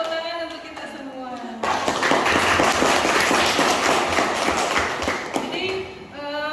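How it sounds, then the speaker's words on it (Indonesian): A high school economics class breaks into applause, a dense burst of clapping from many students that starts suddenly and fills several seconds before fading, with a teacher's voice heard before and after it. "Ya, tepuk tangan untuk kita semua."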